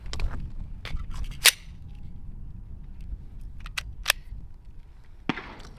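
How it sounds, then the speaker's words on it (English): Unsuppressed 9mm subsonic gunshots tied to an Omega36M, with a few sharp, fairly distant cracks spread irregularly over a low rumbling background and no talking. "we're gonna be shooting on subsonic ammunition unsuppressed"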